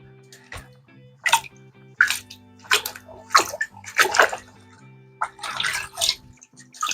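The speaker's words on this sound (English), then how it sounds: "Give it a good squeeze out." Water gushes and splashes in repeated bursts as a sponge from an Oase Biomaster Thermo pond filter is squeezed out by hand, each squeeze giving a loud close pour with dripping between, over a steady low hum.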